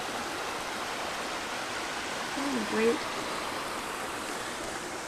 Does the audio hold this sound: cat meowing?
no